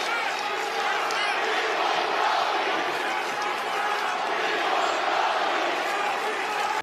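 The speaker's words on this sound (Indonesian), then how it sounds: "Sorakan "We Want Cody" bergema di arena." WWE arena crowd chanting "We Want Cody," a loud, continuous roar of many voices filling a large venue without letup.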